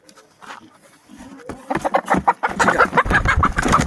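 Hens in a backyard coop holding newly arrived chickens cluck busily and loudly at close range, with scuffling patter among the steady run of calls.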